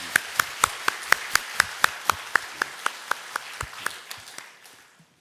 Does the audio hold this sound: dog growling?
no